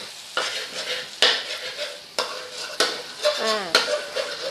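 Egg frying in a pan, a steady broadband sizzle with repeated scraping stirs of a utensil every second or so, close and moderately loud, with no talking.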